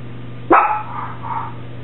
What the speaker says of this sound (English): I wonder why the dogs are barking now.